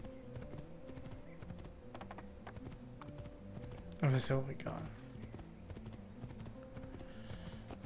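Rhythmic clip-clop of horse hooves in the video game Assassin's Creed 2 plods along steadily in the background while someone talks over it; a short burst of another sound cuts in midway.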